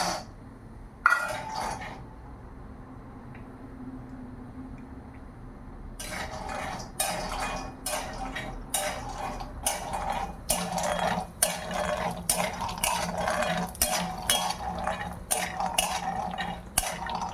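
Cashews being roasted in a pan for dry-fruit laddoos, heard as quiet pan sizzle and then repeated scraping and stirring strokes with clinks of a utensil against the metal, steady and close.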